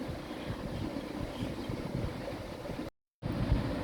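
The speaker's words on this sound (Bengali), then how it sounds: "তেলে রসুনগুলো প্রথমে দিব তারপর পেঁয়াজগুলো দেবো" Garlic and then onion hit hot oil in a pan, giving a steady, close, crackling sizzle that cuts out briefly before resuming.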